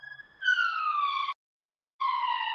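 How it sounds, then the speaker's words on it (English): An emergency vehicle siren wails in two loud descending blasts separated by a short gap, heard clearly with no talk over it. "There's got lots of emergency vehicles."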